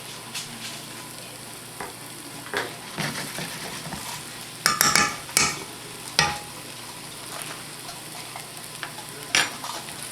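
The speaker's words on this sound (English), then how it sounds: "I'm going to fry these up" Pork brain chunks fry in a pan with a steady, close sizzle, broken by several louder bursts of stirring and scraping that flare up and die back.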